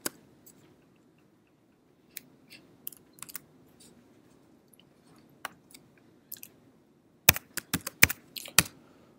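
Commands are typed on a computer keyboard into the R console, scattered single key clicks at first, then a quicker cluster of crisp, close taps near the end, with no talking.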